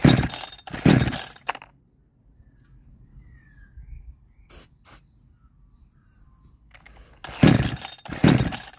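A Chinese 62cc chainsaw being started: two loud rasping pull-starts at the opening, a long quiet stretch with a brief tick, then two more harsh rasping pulls near the end, all close.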